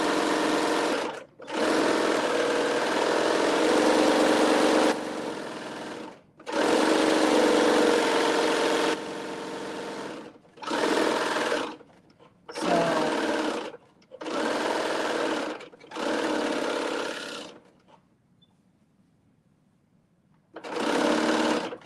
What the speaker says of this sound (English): It does not take long at all to serge this.